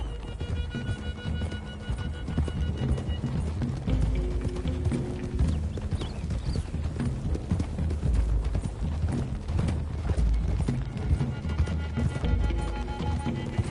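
Continuous thudding hoofbeats of several horses galloping at speed in the video game Red Dead Redemption 2, a dense, rumbling clatter that keeps up without pause throughout.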